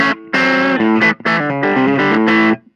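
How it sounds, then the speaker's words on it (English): An electric guitar played straight through a Dr. Z amplifier with no effects rings out in a few bright, sustained chords separated by brief gaps, loud and close with nothing else heard. "this is just the guitar with the amplifier"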